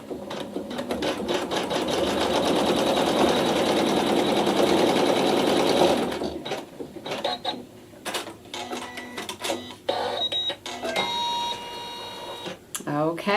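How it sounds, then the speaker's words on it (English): A sewing machine stitches a fabric seam in neutral thread, a steady close mechanical whir for about six seconds, then stops; afterward someone talks over light handling noises and fabric rustle. "now with the neutral thread in the machine, I'll go ahead and stitch my seam"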